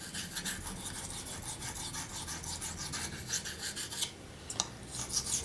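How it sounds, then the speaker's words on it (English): A hunting knife's V edge is drawn across a waterstone in steady repeated rasping strokes, close and fairly quiet, with a few sharper scrapes near the end. "this waterstone sharpening takes much time, nearly 20 minutes"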